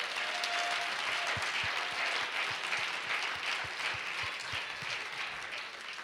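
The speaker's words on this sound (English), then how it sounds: "Let's give her a hand clap one more time." Audience at Life Tabernacle church clapping for a woman being thanked for her service, steady dense applause from a crowd that holds strong throughout and only slightly eases near the end.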